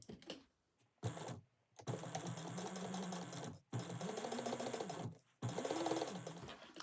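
A sewing machine stitching a seam with an eighth-inch allowance, a close rapid mechanical whirr running in bursts of a few seconds with short pauses between, no voices.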